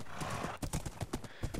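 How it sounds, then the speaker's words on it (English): Horse hooves in the Minecraft video game pound in a quick, uneven clip-clop rhythm, close and fairly loud, with no talk over them. "Let's see how fast this horse goes."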